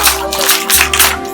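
A gathering claps along during a celebration at Centre Canna JP: brisk, uneven bursts of clapping with a faint sustained tone beneath, fairly close and loud.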